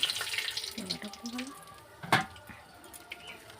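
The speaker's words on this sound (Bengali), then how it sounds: "এবারে তেজপাতা শুকনো লঙ্কা দিয়ে দিলাম" Bay leaves and dry red chillies sizzle in hot oil in a wok, a bright hiss strongest at first and then fading, with a sharp clatter midway and faint background murmur.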